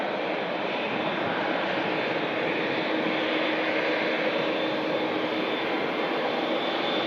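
A Saudia jet airliner arrives at Manchester Airport, its engines a loud, steady broadband roar that holds at constant strength throughout, with no voices.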